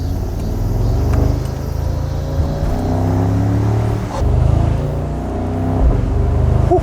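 Engine of a Mercedes-AMG SL 63, a heavy roughly two-tonne car, droning steadily with rising and falling pitch as it corners, loud and close throughout with no talk.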